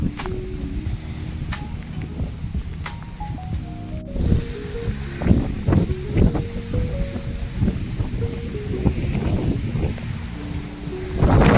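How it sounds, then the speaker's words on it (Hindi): Gusty wind in a Himalayan mountain village buffets the microphone in rough, low rumbling bursts that grow stronger partway through, with soft melodic tones playing in the background. "देखिए कितनी हवा है"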